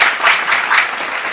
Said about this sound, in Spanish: pido un fuertísimo aplauso para ella